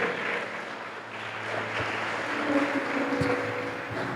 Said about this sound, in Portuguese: Pode aplaudir mesmo ao Senhor